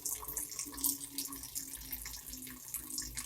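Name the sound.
running tap water while washing hands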